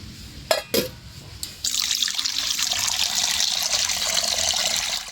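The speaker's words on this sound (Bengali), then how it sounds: "কড়াইতে জল দিয়ে দিয়েছি।" Water pours from a tap into a wok for boiling spinach, starting with a few clanks and splashes, then settling into a steady, even rushing stream that fills the pan.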